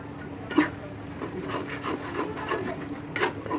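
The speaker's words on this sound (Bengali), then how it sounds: "মশলাটা সুন্দর মতন কষিয়ে নিচ্ছি।" Spatula scraping and stirring spice paste with chili and turmeric powder in a pan for broiler chicken bhuna, a steady run of soft, close rasping strokes with a few sharper scrapes.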